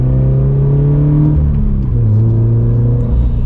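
A 2020 Toyota 86 TRD accelerating in second gear, heard from inside as a loud, steady engine drone that climbs in pitch, briefly dips and then rises again, with no one talking.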